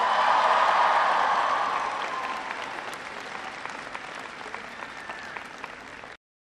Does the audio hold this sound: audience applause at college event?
yes